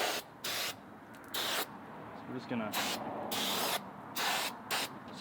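Aerosol brake cleaner is sprayed onto the rear brake rotors of a 2015 Subaru WRX in several short, hissing bursts, close up, while someone talks between and over the sprays.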